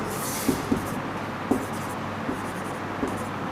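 Soft scratching strokes of writing the word science, a handful of light taps and scrapes spaced across a few seconds, faint under a steady room hum.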